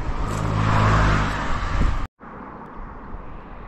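Vehicles passing along a busy road beside a campsite near the Broads, a loud rushing swell from one car going by, then a quieter steady traffic hum after a brief cut.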